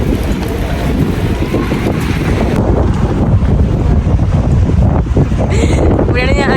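Strong cold wind blows across the microphone outdoors, a loud, steady roar of buffeting gusts that lasts throughout with no pause.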